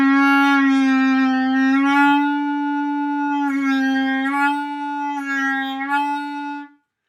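A clarinet played with a loose, relaxed embouchure holds one sustained tone with a rich, buzzy overtone stack for about six seconds, slightly wavering, then cuts off, heard alone and close.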